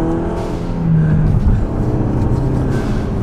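Turbocharged car with the turbo muffler removed, revved in sports mode: a loud, close engine roar climbing and falling in a short burst with a whooshing turbo edge over a rough low rumble, with no talking.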